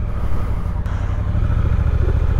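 A trail motorcycle without a clutch pulls away and accelerates close by, its engine a loud, steady drone with a dense low rumble that holds throughout.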